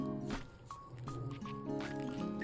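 Hot water at 91 degrees poured onto ground coffee in a V60 pour-over for the bloom: a quiet, continuous trickle and splash with soft drips, close by.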